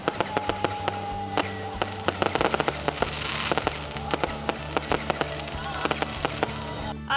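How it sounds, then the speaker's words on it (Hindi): Dense New Year's fireworks burst across a Pakistani city for the 2022 celebration, a rapid string of sharp cracks and pops layered over a continuous roar, with crowd noise beneath. "शहर इक़्तिदार समेत मुल्क भर में शानदार आतिशबाजी का मुजाहरा किया गया।"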